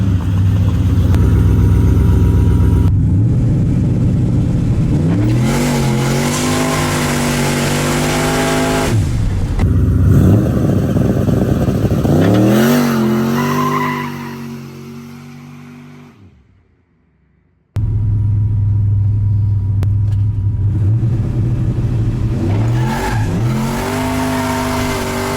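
A turbocharged LS-powered street truck launches hard and accelerates through the gears. The engine roars loudly with rising pitch sweeps, then drops out briefly before the roar resumes.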